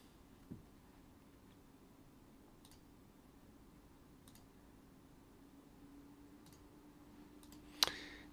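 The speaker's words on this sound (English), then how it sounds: "Mouse clicks." A handful of sparse, faint computer mouse clicks over a quiet room hum at a desk, with one sharper, louder click near the end and no voices.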